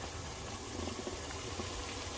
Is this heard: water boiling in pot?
yes